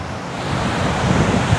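Surf rolling onto the shore at Mt. Panit's beach, with steady wind buffeting the microphone throughout, a continuous broad roar that swells slightly toward the end, no talking.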